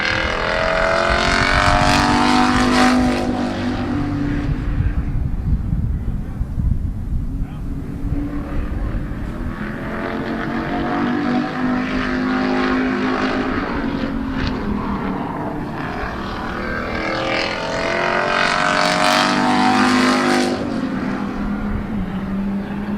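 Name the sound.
race car on qualifying lap at Midvale Speedway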